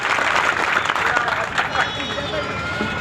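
Audience at a political party event applauding to welcome new members, a dense steady wash of clapping with crowd murmur and voices underneath.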